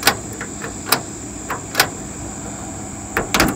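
Key turning in the door lock of a 1968 Plymouth Valiant 100, a series of small metallic clicks and rattles, close and fairly quiet, spread over a few seconds with brief pauses.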